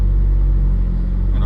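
Car engine idling steadily at about 1,000 rpm on a standalone ECU, a loud, close, low continuous rumble with no clear changes in pitch.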